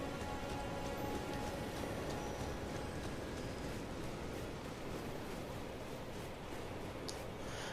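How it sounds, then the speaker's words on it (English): Steady broadband rain falls in the Elden Ring game world, a continuous even hiss with fine patter that holds for the whole stretch without talk, and faint hoof-like taps sit underneath. "there are times where, you know, it rains in the game"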